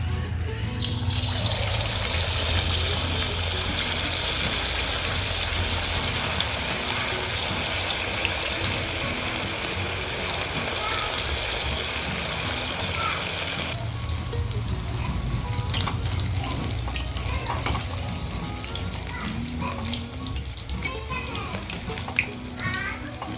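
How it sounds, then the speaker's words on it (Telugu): Chicken pakoda pieces frying in hot oil, a loud dense continuous sizzle up close that eases somewhat partway through while being stirred, with occasional faint voices in the background. "ఇలా కలుపుకుంటూ బాగా ఫ్రై చేసుకోవాలి."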